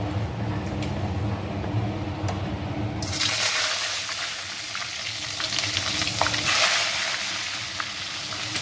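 Eggplant pieces are dropped into hot oil in a pan. After a quieter stretch, a loud, close sizzle bursts in abruptly and keeps crackling steadily to the end.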